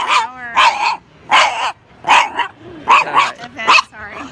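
An excited dog barks repeatedly at another dog, about seven loud close barks in an uneven burst with short whining gaps, no talk.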